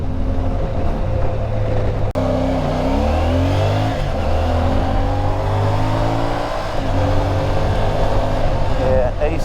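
A CFMOTO 450 MT motorcycle engine climbs steadily in pitch toward 5,000 rpm, drops briefly at a gear change, then builds again in fourth gear, loud and close, with a voice talking over it.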